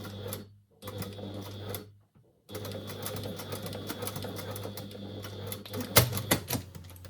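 A sewing machine stitches rows along a jacket in rapid mechanical bursts, stopping briefly twice before running on steadily, with a louder clatter near the end.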